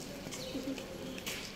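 A pigeon gives a soft, brief coo close by at a farm barn, with faint background noise and a little nearby talk.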